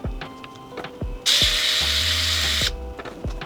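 A small screwdriver works a screw on a Flame Toys Kuro Kara Kuri Shattered Glass Optimus Prime figure, giving close, sharp clicks and ratcheting turns, with one longer gritty grinding stretch in the middle.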